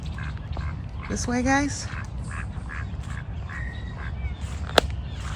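Ducks quack nearby among bird calls and rustling, while a person speaks briefly; a sharp click sounds near the end.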